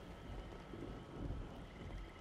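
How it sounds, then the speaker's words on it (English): Rain falling in the video game Interstellar Marines, a steady, dense wash of rainfall with a faint low rumble beneath, holding an even level throughout with no voices. "You can see now it's starting to rain."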